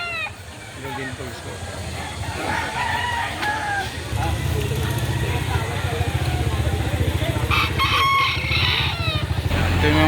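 A nine-month-old Golden Boy bloodline rooster crows at a chicken market in Lipa City, Batangas. Its repeated calls ring out over a busy background of other fowl, engines and people talking.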